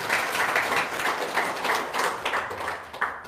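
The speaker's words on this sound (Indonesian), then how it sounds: "Tepuk tangan dong." A crowd claps steadily for a few seconds at a motivational talk, a dense, even patter of hands with no voices over it.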